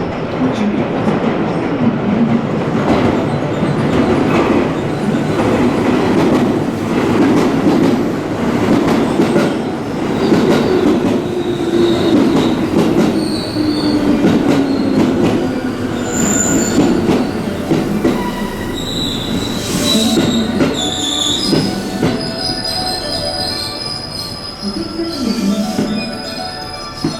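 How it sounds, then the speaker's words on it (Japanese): A JR West Yamatoji Line train pulls into a platform at Tennoji station, with loud rumbling wheels, clickety-clack and squealing brakes over station noise. A whistle or high tone sounds near the end. "17番乗り場、電車が入ります。"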